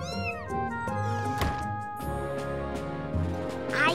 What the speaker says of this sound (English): Mom, Dad, a kitty!